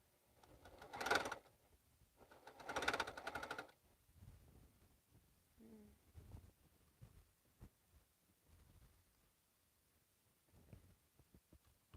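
A sewing machine with bobbin and thread installed runs in two loud, mechanical bursts near the start, followed by softer intermittent clicks and faint handling noises.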